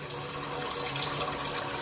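Steady running tap water splashing into a sink while homemade butter is rinsed until the water runs clear, a continuous close hiss with no talking.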